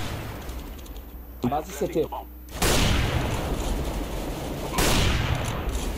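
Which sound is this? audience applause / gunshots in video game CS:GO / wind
gunshots in video game CS:GO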